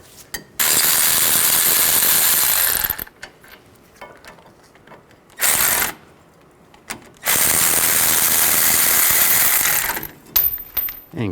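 Ratchet wrench with an 18mm socket loosening caliper bracket bolts on a 2002-06 Chevy Avalanche front hub, giving two long bursts of rapid clicking and a short burst between, with quiet pauses and a few light knocks at the end.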